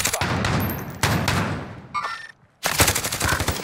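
Rapid bursts of automatic gunfire from Call of Duty: Warzone (Cold War season), close and loud, in two long volleys split by a brief pause and a near-silent gap.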